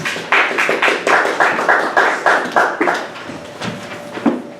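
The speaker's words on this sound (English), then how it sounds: "let us please give him a warm welcome round of applause" Loud, close clapping welcoming a lecturer, in a steady even rhythm for about three seconds, then trailing off into scattered fainter claps.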